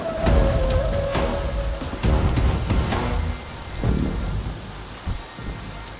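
Steady rain pours while rolling thunder rumbles in several low, heavy bursts, close and loud, with no voices.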